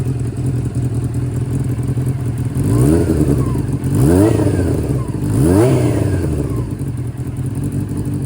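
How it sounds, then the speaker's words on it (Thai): A nearby Honda CB400 Four motorcycle idles loudly, then its engine is revved three times in quick succession, each rev rising and falling back to idle. "แล้วเดี๋ยวผมไปเบิ้ลนะครับ"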